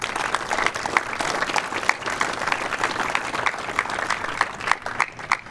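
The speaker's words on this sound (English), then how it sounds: "Please give them a round of applause." Warm applause greets returning alumni at a memorial dedication for a coach, many hands clapping in a steady patter with a few sharper, nearer claps standing out, moderately loud and without speech.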